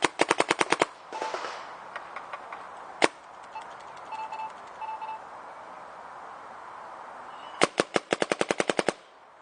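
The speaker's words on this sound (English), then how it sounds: "gun's running now with eyes off, means my rounds are complete" Paintball gun firing rounds of six-month-old paint in rapid mechanical bursts at the start and end, with a lone sharp shot in between and quieter hopper whirring and beeps.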